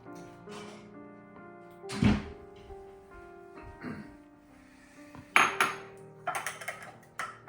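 Kitchen handling of a mixing bowl while making Massaman curry paste: scattered thunks, clinks and knocks of dishes and utensils being moved and set down, close and irregular, with a few sharper clatters toward the end.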